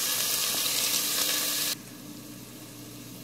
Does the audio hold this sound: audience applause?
no